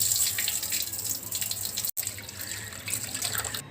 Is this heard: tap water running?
yes